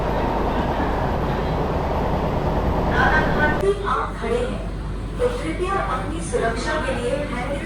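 An AC local train on its fast inaugural run from Sealdah toward Ranaghat, pulling into Kanchrapara station: a loud, steady rolling rumble that drops to a quieter hum about halfway, with voices audible in the coach.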